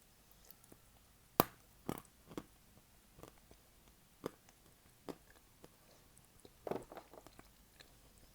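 Edible chalk being bitten and chewed close to the mic, with a few sharp crunchy bites among softer, irregular chewing sounds and quiet pauses between them, and no talking.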